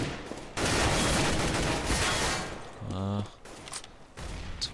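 Counter-Strike gunfire on the de_train map during a competitive match, rapid bursts of automatic fire in loud clusters separated by brief pauses, with a clicking mechanical weapon sound in the middle.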